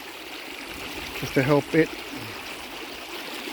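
Water from a stream runs through rocks and gravel as a steady, close rushing hiss. Someone speaks briefly partway through.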